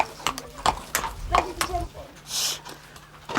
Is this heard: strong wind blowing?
no